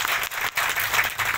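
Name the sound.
audience applause at apricot festival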